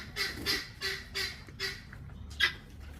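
Chickens squawking at feeding time on a farm, a series of loud, separate squawks spaced about half a second apart, with a few fainter calls between them.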